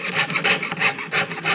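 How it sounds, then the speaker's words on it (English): A small hand saw cuts through sheet metal during jewelry piercing work, giving a steady rasping stroke repeated about five times in quick rhythm, close and fairly loud without voices. "That's how you can steer sawing out the piece."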